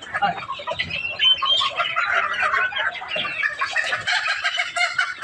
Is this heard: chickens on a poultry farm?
yes